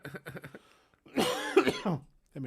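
A single person coughs once or twice at close range, with short bursts of conversational speech just before and after.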